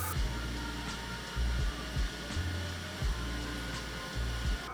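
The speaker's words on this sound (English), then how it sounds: "So this sprays air, and then when you pull it, it sprays the paint." Paint spray gun blowing compressed air, a steady close hiss that swells in short pulses every second or so.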